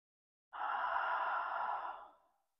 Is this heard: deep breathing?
yes